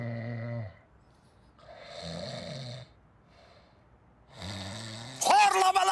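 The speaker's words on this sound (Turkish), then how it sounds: "Horlama lan! Yeter!" A man snores loudly in long, rasping cycles, each breath a drawn-out rumble separated by short quiet gaps, with a voice breaking in at the end.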